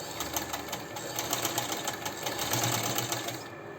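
A sewing machine stitches a sleeve seam in a steady, rapid mechanical chatter, close and continuous, stopping abruptly near the end.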